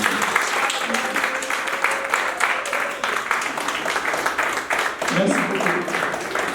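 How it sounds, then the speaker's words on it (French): An audience claps steadily and warmly to welcome a speaker at a student entrepreneurship talk, a continuous dense wash of clapping that holds throughout and lifts slightly near the end. "sous vos applaudissements, accueillir"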